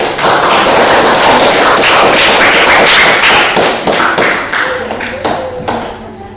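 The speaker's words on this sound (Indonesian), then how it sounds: "Berikan aplaus dulu untuk" Classroom audience applause, dense clapping from a group that holds steady, then thins into scattered individual claps and fades out.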